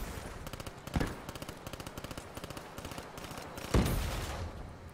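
Rapid, rhythmic gunfire from an ICR-1 rifle in a first-person shooter game, a steady string of repeated shots with two heavier impacts standing out, and no talking.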